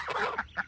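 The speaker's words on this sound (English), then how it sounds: "Those 2 geese in the back, the gray ones, those are Swedish." Two short honking calls from a gray Swedish goose, close and fairly loud, the second one briefer than the first.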